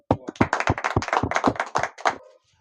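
Crisp, rhythmic clapping at a small celebration for an SDM in Kanina, a handful of sharp hand claps in a quick regular beat, close by, ending abruptly with a short quiet tail.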